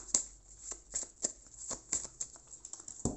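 Tarot cards shuffled and handled for a reading, with crisp close riffles, slaps and soft flicks in an irregular rhythm, quiet and alone with no talking.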